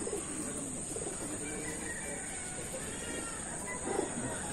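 Taiwan Gold line racing pigeons coo softly inside a loft, a low, muffled continuous murmur over a steady high-pitched hum, with a slightly louder burst near the end.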